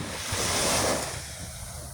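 Surf rolls onto the beach at Barangay Sabang in Santa Cruz, Zambales, a steady close wash of breaking ocean waves with wind noise over the microphone, no voices.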